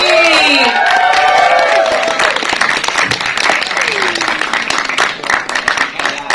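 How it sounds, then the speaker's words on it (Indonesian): Media and guests at an Indonesian film press conference break into loud, sustained applause with some cheering, while a host's voice carries over the clapping early on. "langsung saja kita beri tepuk tangan yang paling meriah untuk Laura Basuki"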